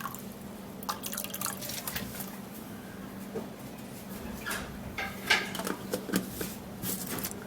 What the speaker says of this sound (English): I'm going to be putting a little water into it.